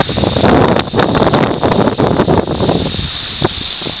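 Strong wind buffets the microphone while canoeing on the Exe estuary, a loud continuous roar with gusty surges throughout and no talking.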